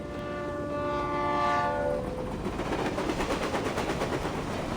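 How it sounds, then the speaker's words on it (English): A train in the video game Reverse 1999 sounds a sustained horn, then rolls past in a loud, steady rumble with a rhythmic clatter of wheels and no voices. "And why is the stupid train never on time?"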